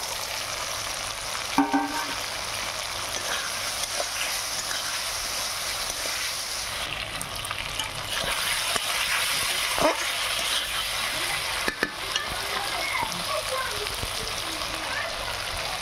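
Small puti fish go into hot oil with ground mustard, cumin and dried chili paste in a frying pan, giving a steady, moderate sizzle with occasional splatter and stirring clinks across the whole stretch.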